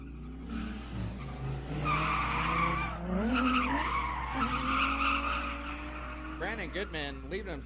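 Two drift cars, a Nissan 240 leading and an Infiniti G35 chasing, slide through a final round with sustained tire squeal and engine noise under a commentator's voice.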